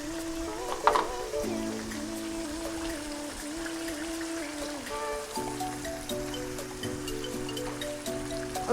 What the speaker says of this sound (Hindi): 3 कप के करीब पानी।